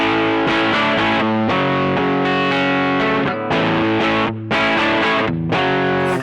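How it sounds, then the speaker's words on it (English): Loud electric guitar chords through a gritty Bogner Ecstasy Blue overdrive/distortion pedal, strummed in a rhythmic pattern with brief pauses between phrases. "Great distortion sound."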